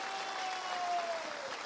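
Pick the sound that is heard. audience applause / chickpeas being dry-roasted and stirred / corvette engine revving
audience applause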